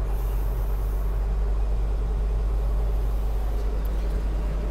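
Farm tractor engine running steady and loud as it powers a PTO shaft while loading canola into a tipper, a constant low rumble with a deep hum and no talk over it.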